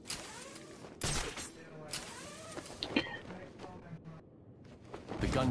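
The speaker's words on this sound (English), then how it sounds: "Gunshot came from the bell tower." Gunfire rings out from a bell tower in a PS4 video game, with several sharp bursts at irregular intervals set against a busy game soundscape and voices.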